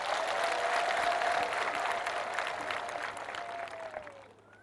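A church congregation claps for Jesus in a sustained wash of applause that holds steady at first and then gradually fades away toward the end.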